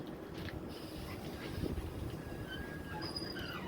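The 22412 Arunachal AC Express runs slowly near Anand Vihar, producing a steady low rumble of rolling coaches with faint wheel squeals and soft clicks over the rails.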